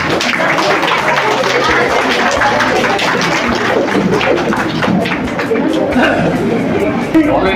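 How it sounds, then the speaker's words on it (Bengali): Audience clapping loudly together at a felicitation during the Sodpur Shilpabhabna children's art exhibition in 2024, a dense, sustained round of applause mixed with crowd chatter that fills the whole stretch. "সবাই মিলে জোরে হাততালি"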